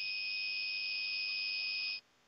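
A bench power supply used to test a mobile phone sounds a steady, shrill electronic beep warning of a short circuit, one continuous tone lasting about two seconds and then cutting off cleanly into near silence.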